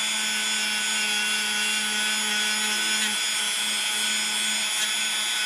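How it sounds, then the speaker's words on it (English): A Dremel rotary tool cleaning dirty parts of a Gast PCA 10 compressor during a rebuild, a steady high-pitched whine running continuously at close range, loud and alone without talk. "You take your little Dremel here."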